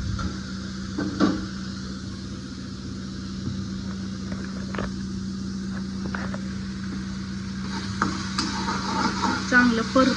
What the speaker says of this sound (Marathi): चांगलं परतू द्यायचं आपल्याला मसाला